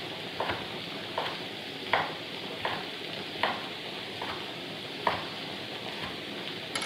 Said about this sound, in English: Pop those right in with the peppers and onions.